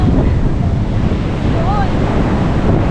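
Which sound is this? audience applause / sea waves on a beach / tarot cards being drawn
sea waves on a beach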